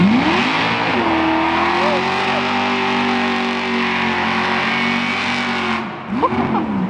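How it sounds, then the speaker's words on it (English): A loud big-block nitrous drag car engine holds a steady high rev, roaring continuously before dropping off and revving again near the end. "It is a big tire, big block nitrous car."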